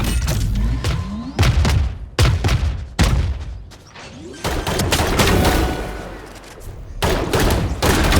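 Missile launches and gunfire in a video game, with a rapid chain of loud, sharp bursts and booming blasts, one after another with brief gaps, some overlapping into a dense barrage.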